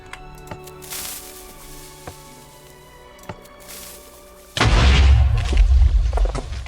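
Minecraft TNT cannons fire on a medieval kingdoms building server: a few sharp, separated pops and clicks give way to a loud, sustained booming explosion rumble that carries through to the end.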